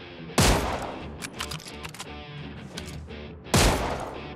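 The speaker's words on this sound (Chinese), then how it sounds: "停止换弹，跟他对狙" Mosin-Nagant sniper rifle fire in PUBG: two loud, sharp single shots about three seconds apart, with busy game sounds between them.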